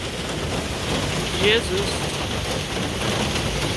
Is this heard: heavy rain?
yes